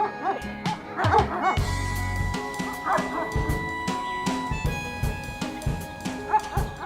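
A livestock guardian dog barks and yips repeatedly at close range in uneven bursts, with whimpering sounds between the barks.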